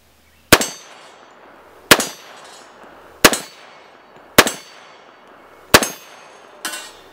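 A 1911 pistol fired at a steel hostage target, with six sharp shots spaced roughly a second and a half apart, each followed by a bright metallic ring that decays quickly; no talking.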